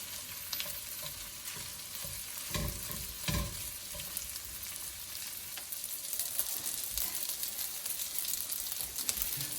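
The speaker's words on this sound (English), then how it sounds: "Now we'll just add the rice. Nice cold day-old rice and stir fry that." Cold day-old rice sizzles and crackles in a hot pan while making fried rice, with occasional scraping stirs and clattering bumps of a utensil, fairly quiet and steady.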